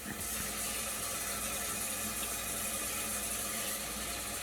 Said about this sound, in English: So I'm just gonna add a teeny bit of water.